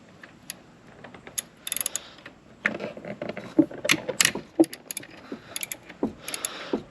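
A ratchet works a 13mm bolt off the power cord on the alternator of a C5 Corvette, giving bursts of close, rapid clicking with metallic clinks and pauses between turns.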